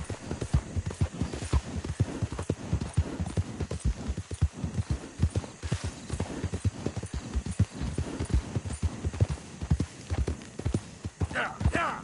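Rapid clip-clopping hooves of a horse galloping in a PS4 video game, steady and close, with someone shouting encouragement over the game sound throughout.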